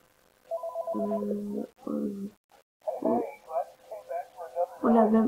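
A phone rings in Five Nights at Freddy's 3 with a short, bright electronic ring pattern near the start, followed by a voice talking.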